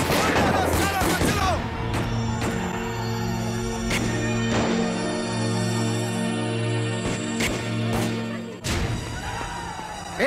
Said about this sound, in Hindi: गोली चल गई, गोली चल गई।